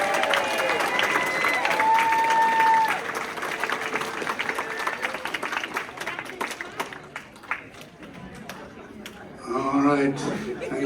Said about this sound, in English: Please give a round of applause to Team 11.